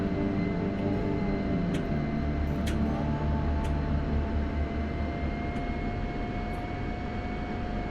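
An aircraft engine drones steadily and loudly on the runway at Incirlik in a flight video game, a continuous roar with faint clicks over it and no talking.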